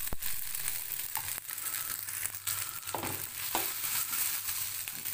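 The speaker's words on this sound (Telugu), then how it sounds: "ఉడికిన చామ దుంపల్ని ఇలా కట్ చేసి ఆయిల్లో వేస్తున్నాను." Boiled taro root pieces fry in oil in a wide pan with a steady, close sizzle and crackle, broken by occasional scraping and stirring sounds.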